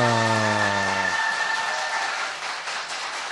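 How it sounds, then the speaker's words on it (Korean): A talk show audience breaks into applause after a short sustained tone fades, with a brief burst of clapping that tapers off quickly. "박수!"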